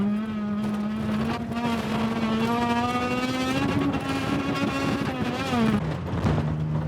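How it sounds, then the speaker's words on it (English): A race car roars past on the rev limiter during a dusty dirt-track event with jumps, its engine note loud, steady and buzzing, held close for several seconds before dipping briefly near the end. "he drives by on the rev limiter in that car."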